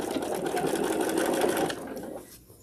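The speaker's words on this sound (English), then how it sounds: "Let's take our locking stitches, and then we're going to sew backwards to that miter." A sewing machine runs in one steady, rapid burst while sewing locking stitches, then winds down and stops near the end.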